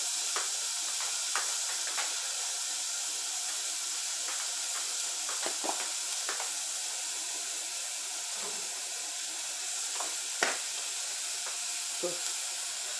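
An air fryer cooking meat in a home kitchen gives off a steady, close whooshing fan hiss that holds evenly for the whole stretch, broken by a few faint scattered clicks and soft taps.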